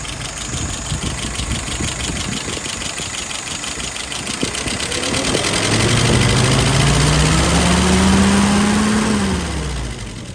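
A carburetor-tuned engine running after a throttle pull, a steady close mechanical rumble with rapid firing pulses and a rising, then falling engine pitch near the end.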